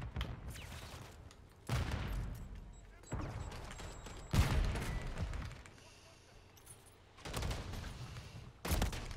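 Gunfire in Modern Warfare 3 on the Slaughterhouse map, arriving as repeated loud bursts every second or two over constant game noise, with a player's voice talking in between.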